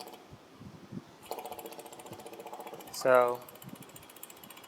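An electric fuel pump with an internal regulator buzzes and whirs, cycling off and back on, its hum rising sharply into a louder mechanical whine near the end, with a voice speaking briefly.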